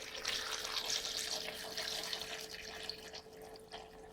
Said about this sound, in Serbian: nasućemo vode.